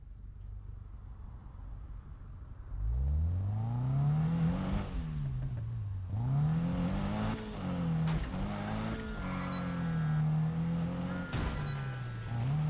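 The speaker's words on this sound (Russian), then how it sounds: "Шумит странно. А может, это Спайка тачка?" A car engine in the Need for Speed video game starts from near silence, then revs up and down through several rising and falling sweeps, close and steady with no talking.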